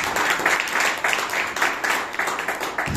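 Church congregation clapping and cheering in praise, a dense, continuous wash of applause with crowd voices rising and falling, fairly loud, lasting only a few seconds.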